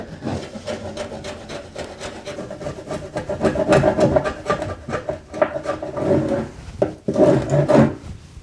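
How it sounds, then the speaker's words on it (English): A chisel rasps along a track saw cut in wood, cleaning it out with steady close scraping strokes that rise and fall in repeated passes, continuous and alone. "So I'm just going to run a chisel along."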